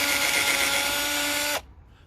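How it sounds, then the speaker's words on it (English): A drill with a 1/16 inch bit bores a pilot hole in PVC lumber, a steady high whine that runs alone for about a second and a half and then cuts off abruptly. "I pre-drilled with a 1/16 inch bit."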